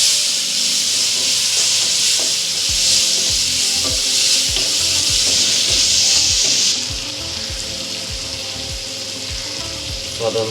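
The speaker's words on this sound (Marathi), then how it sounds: "व्यवस्थितपणे मिक्स करून घेऊया।" Cabbage and tomatoes sizzle steadily in a pan while a spoon scrapes and stirs in repeated strokes up close, the frying hiss easing a little toward the end.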